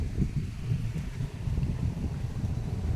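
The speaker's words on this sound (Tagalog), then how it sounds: "makikita natin yung lakas ng hangin" Strong wind buffeting the microphone on an open farm lot, a steady low rumbling roar with gusty fluctuations throughout and no talking.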